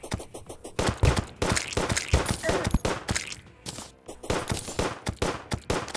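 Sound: guns firing in Terraria video game

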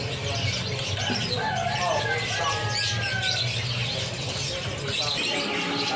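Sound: canaries chirping in a bird shop

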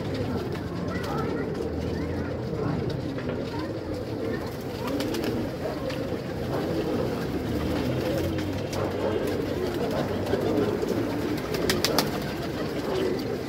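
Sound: pigeons cooing in a loft

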